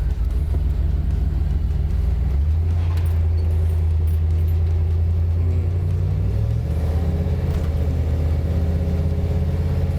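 An old Ford Bronco with a V8 engine driving on the road, a deep, loud, steady rumble close by that climbs as the revs rise partway through.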